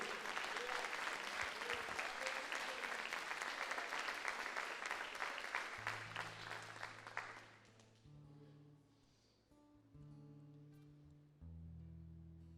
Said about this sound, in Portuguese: Você pode aplaudir o Rei da Glória,